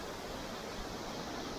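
Waterfall at Speke's Mill Mouth on the North Devon coast, a steady, full rushing roar of falling water that fills the whole stretch evenly, close and loud with no voices over it.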